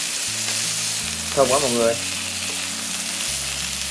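German and Hungarian sausages sizzling in a frying pan, a steady close hiss throughout while a voice speaks briefly over it.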